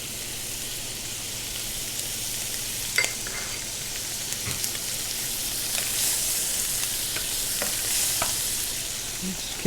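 Assorted mushrooms frying in butter in a restaurant kitchen pan in Cambridge, UK, a steady soft sizzle with occasional light clicks and scrapes as they are rolled and stirred, fairly quiet with no talking.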